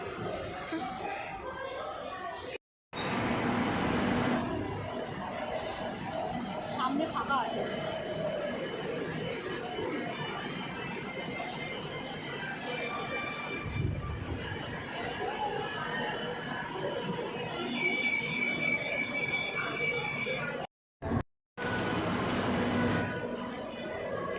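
A passenger train runs with a continuous rumble and rattle of carriages, heard from inside the car. People chatter over it throughout, and a high squeal rises briefly. Two short silent gaps break the sound.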